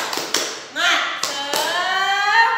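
A teacher in an Indonesian primary lesson leads the rhythmic 'tepuk semangat' clapping chant, with a few crisp claps set between sung, voiced chant syllables.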